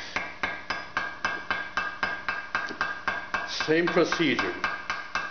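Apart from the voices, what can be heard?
light hammer taps on a rivet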